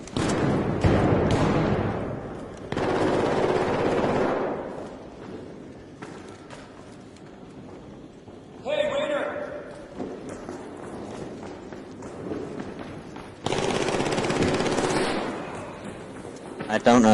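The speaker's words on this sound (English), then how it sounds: "We're shooting at these guys." Bursts of gunfire in the video game Arc, several sustained volleys of rapid shots separated by quieter stretches, with players talking over the firefight.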